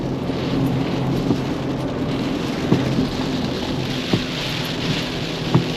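Heavy rain pours in a loud, steady hiss, with occasional louder drops tapping nearby and no voices.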